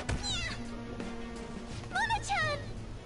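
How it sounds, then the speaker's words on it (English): A cat in the Persona 5 Royal video game gives a couple of close, loud, drawn-out meows near the end, following a stretch of other game sound. "Will you shut up, you stupid cat?"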